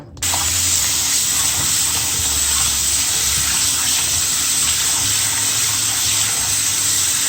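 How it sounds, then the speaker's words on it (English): Tap water runs steadily over oxtail meat being rinsed in a sink, a continuous close hiss of flowing water that stays loud and even throughout with no talking. "I'm gonna put some water from the pipe, running water in it to rinse it."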